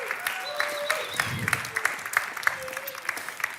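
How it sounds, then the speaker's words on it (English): Audience clapping at a tech innovation talk as panelists come on stage, a moderate, scattered patter of hands with occasional sharper claps, while faint tonal sounds and a low murmur run underneath. "Maybe we can clap to them as well as they arrive."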